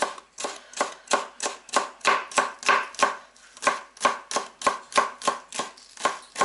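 A knife chops green onion on a cutting board in a home kitchen, about twenty sharp, close taps in a quick, steady rhythm with no talking.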